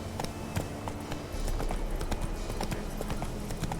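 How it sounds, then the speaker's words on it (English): Roach the horse galloping in The Witcher 3, a steady quick clip-clop of hooves around tombstones, close and continuous. "Roach is having a bit of difficulty getting around the tombstones."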